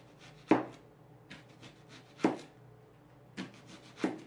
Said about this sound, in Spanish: Voy a empezar a picar la cebolla.